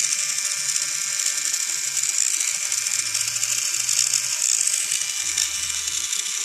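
A Scholl electric nail file spins with a steady high-pitched whirr and a faint ticking rattle from its rotating head, running continuously and close by with no talking.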